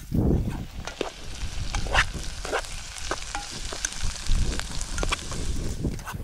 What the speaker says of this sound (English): I'm just sauteing that in some olive oil